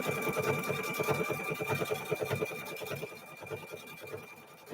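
A sewing machine stitches a quilt, running in a steady, rapid mechanical chatter that stays close and fairly loud before easing slightly softer near the end.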